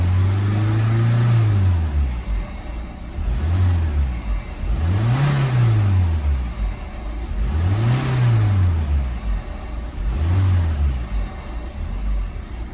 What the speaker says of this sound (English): And I'm gonna rev it up a couple of minutes.